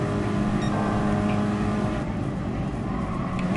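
A steady, loud turbocharged car engine drone in a Gran Turismo video game, with a constant hum and slight rising whine, continuous throughout with no talking.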